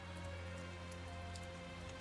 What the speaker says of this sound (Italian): sotto la pioggia.